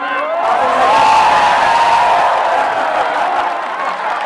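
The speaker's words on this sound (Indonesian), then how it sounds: "Sekali lagi tepuk tangan dong" A crowd at an Indonesian campaign dialogue event gives a loud, continuous roar of applause and cheering, dense and sustained, with voices whooping within the wash of noise.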